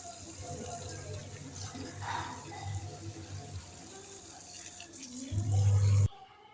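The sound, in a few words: water filling plant pots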